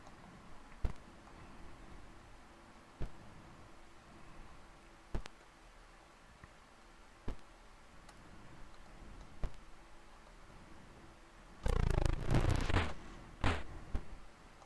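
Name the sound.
heartbeat-like life force ticking in video game Tower of Doom (Intellivision)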